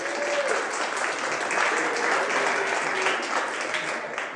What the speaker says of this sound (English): This is literally sadder applause.